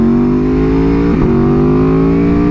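An Aprilia Tuono motorcycle engine holds a steady, close, loud drone, with a brief dip and wobble in pitch midway before it settles again.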